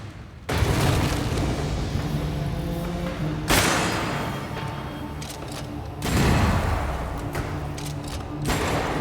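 Grenade blasts in a video game firefight: three loud, close booms, each a sudden broad burst that lingers in a rumbling tail before the next one hits.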